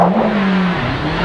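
An R5 rally car accelerates hard on a mountain stage of the Rallye Haut Pays Niçois, its engine revving loud and close from inside the cabin in a steady rising drone.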